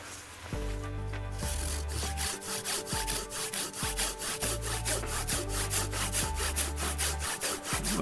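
A Silky Gomboy 300-10 folding saw with medium teeth cuts through wood in fast, steady back-and-forth strokes, each rasping pass loud and close with no talk.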